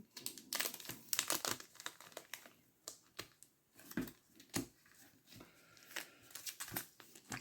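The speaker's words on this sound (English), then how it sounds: "this just folds over. So I'll show you on camera. Folds over onto the card" Packaging being folded over a hockey trading card, heard as a run of close, crisp crinkling and rustling crackles in uneven bursts, fairly quiet and with no voices.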